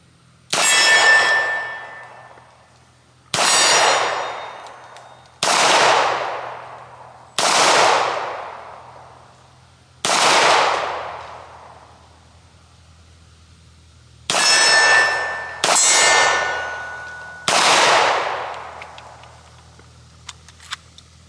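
Walther P4 pistol firing at steel targets: eight loud, sharp shots spaced irregularly, each followed by a ringing metallic clang and a short decay, with quiet gaps between.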